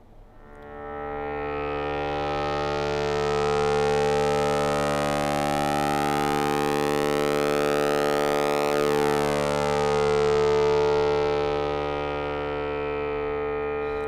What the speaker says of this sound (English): We're just going to hear pulse width modulation.